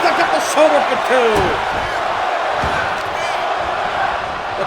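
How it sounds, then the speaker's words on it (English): A steady arena crowd chants in the wrestling video game WWE 2K25 during a match between Rowan and Omos, with a commentator talking over the constant crowd roar. "The crowd chanting one more time."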